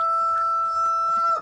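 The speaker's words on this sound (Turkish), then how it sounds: "horozlar şu an izin vermiyorlar. Hepsi aynı anda ötmeye başladı." A rooster crows in a farmyard chicken coop, one sustained, fairly clear call held for over a second at moderate loudness.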